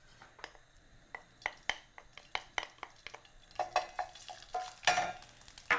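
Curry paste frying in hot vegetable oil in a pan, with a sizzle that grows louder toward the end under a run of sharp utensil clinks and scrapes from stirring.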